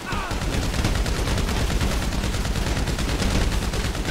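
Dense, continuous gunfire from Grand Theft Auto V rattles steadily for about four seconds, a loud wash of rapid shots with no pauses.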